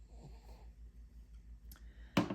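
A dog snores softly in a quiet room, slow rhythmic low rumbles of breath close by, followed by a short sharp snort at the end.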